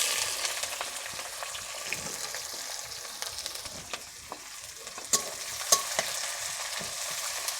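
Onions sizzle and fry in a pan with mace, nutmeg and bay leaves for chicken biryani, a steady close crackle with scraping stirs and a few sharper pops, no talking.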